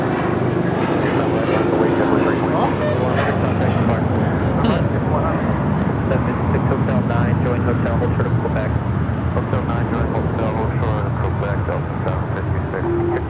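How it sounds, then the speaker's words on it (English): Japan Airlines jet arriving at LAX from Tokyo Narita, a loud, continuous engine roar and whine filling the air nearby, with people talking underneath. "That was Japan Airlines Flight 62 coming in from Tokyo, Narita."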